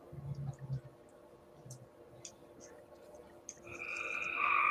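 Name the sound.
frogs croaking at night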